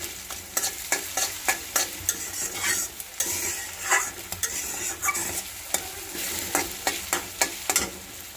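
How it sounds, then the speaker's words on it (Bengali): Red amaranth greens fry in a pan with onion, green chili and garlic, a steady sizzle broken by rhythmic scraping stirs from a spatula, close and fairly loud with no voices. "এটা দেখেন লাল শাক দিয়ে দিলাম, দিয়ে দিয়েছি।"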